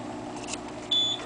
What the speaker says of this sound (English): There's the beep that says it's done.